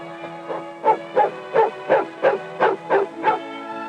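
A dog barks and yips in a pet shop, about eight sharp, evenly spaced barks in a row, close and loud over a faint tonal hum in old archival footage.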